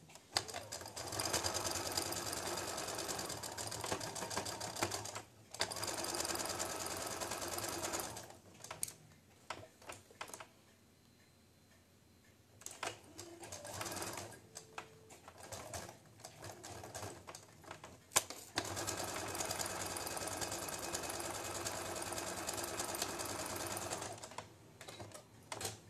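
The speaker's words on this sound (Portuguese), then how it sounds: "Que eu vou passar aqui a costura." A sewing machine stitches a patchwork seam in several long runs of fast, steady mechanical clatter, broken by pauses with quieter handling noises between stitching bursts.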